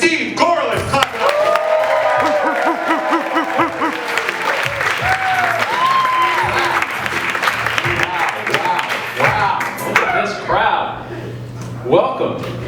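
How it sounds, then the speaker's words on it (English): A comedy club crowd claps loudly and cheers for a comic taking the stage, with whoops and shouted voices riding over dense, sustained applause that thins out near the end. "Please make it very loud for the very funny Steve Gorelick. Clap it up."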